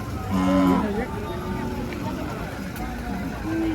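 A bull at the Pandharpur bull market gives one loud, close, deep lowing call early on, then a fainter low moo near the end, over steady outdoor crowd murmur and background noise.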